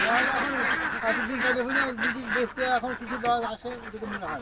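A flock of about 400 ducks at Chalan Beel gives a continuous, overlapping chorus of nasal quacks and honks up close, with voices talking over the flock.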